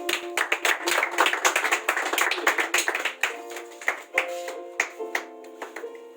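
An audience claps for a maths quiz winner called to the stage at a school prize event, a lively burst of many hands that gradually thins into scattered individual claps with faint tonal sounds underneath.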